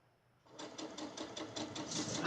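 A sewing machine stitches the seams of a charm square fabric bag, a steady rapid mechanical whir with regular pulsing that starts after a brief quiet moment and runs close and moderately loud.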